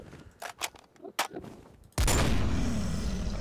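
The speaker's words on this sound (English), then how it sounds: "Can't believe I'm shooting an ender dragon with a Barrett." Barrett sniper rifle firing at an ender dragon in modded Minecraft, a few quick clicks and thumps followed by a sudden loud blast that rings out into a sustained roaring noise.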